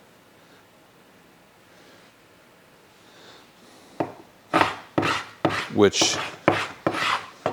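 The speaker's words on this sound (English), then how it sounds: "this scraper has a carbide blade on it" A scraper with a carbide blade, made by Cobalt, scrapes across wood in a series of about seven sharp, rasping strokes, loud and close, after a brief quiet start with faint sounds and a single word spoken.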